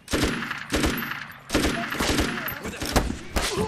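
Rifle fire in a film's rebel battle scene rings out as repeated loud, sharp shots in uneven bursts, with echoing tails between them.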